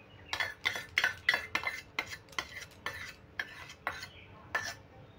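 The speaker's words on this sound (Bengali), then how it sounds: "এবার সমস্ত উপকরণগুলো আমি একটু চামচে করে মিশিয়ে নিচ্ছি।" A spoon works masoor dal kebab mixture with tomato sauce in a bowl, making about a dozen rhythmic scraping strokes with a slight clink at the end of each. The strokes are close and fairly quiet, with no talking.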